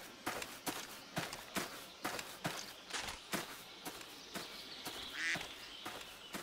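Steady footsteps tramp through brush in the hunting video game Cabela's Big Game Hunter Pro Hunts, then a single sudden duck quack bursts out close by near the end.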